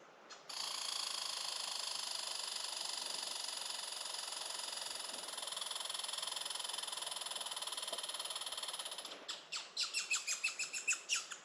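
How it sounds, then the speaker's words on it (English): A chipmunk perched high in a tree near Rock River and Silver Creek Junction gives a sustained, shrill, steady chirping trill, followed by a burst of quicker separate chirps at the end. "Oh, it's a chipmunk."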